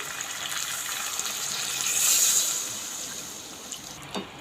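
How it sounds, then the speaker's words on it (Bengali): Water is poured into a pan of potato curry with swallow mate, a steady, soft pouring hiss that swells to a peak midway and then fades, with a faint clink near the end. "আমি অল্প করে জল দিয়ে দিচ্ছি"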